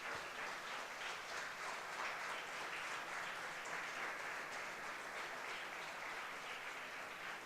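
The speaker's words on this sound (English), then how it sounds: "Give a gratitude clap." Audience at a graduation ceremony standing to give a gratitude clap: dense, continuous applause from a large crowd, steady and fairly distant throughout, with no talking over it.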